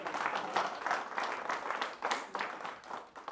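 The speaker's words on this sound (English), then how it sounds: "Yeah, that can get an applause." An audience at a campaign event for a US Senate bid applauds after a line about good pay for police, a moderately distant, sustained patter of many people clapping with small swells.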